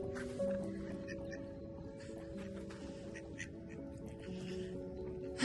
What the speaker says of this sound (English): Oh, there's the ducks.